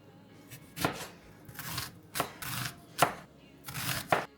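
A knife slices through lemons with a few sharp, crisp cuts spread across a few seconds, each cut paired with a soft juicy swish, close and fairly quiet, with no talking.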